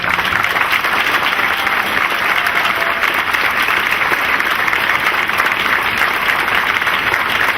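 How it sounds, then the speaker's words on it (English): A loud, unbroken round of applause from a large crowd at a student leadership conference honoring student leaders of the year, many hands clapping evenly for several seconds with no talking. "I think right now we need to give them a round of applause"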